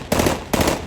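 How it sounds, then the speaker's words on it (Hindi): Celebratory gunfire at a PML-N victory celebration in Faisalabad, Pakistan: two sharp, loud, close bursts about half a second apart. "शदीद किस्म की फायरिंग की।"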